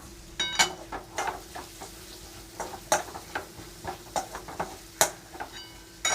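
Wet cashew curry in a Malvani-style kaju bhaji being stirred in a pan with the lid removed, quiet sizzling under repeated sharp spoon knocks and scrapes against the metal, close and irregular, no talking.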